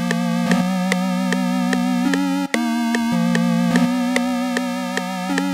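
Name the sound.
synth preset made on Repro 5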